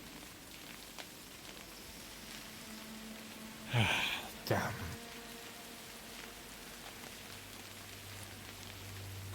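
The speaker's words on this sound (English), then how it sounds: "The downpour and the fog is worse than ever before." Steady heavy rain pours down in a dark stormy roleplay setting, a constant wash of hiss throughout with a low rumble near the end, while a voice speaks briefly partway through.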